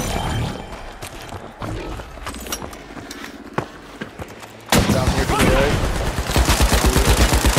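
Weapons fire nonstop in a ranked match of the video game The Finals. Rapid fusillades and bursts crackle under the clutter of a dense firefight, building into a loud, steady volley near the end.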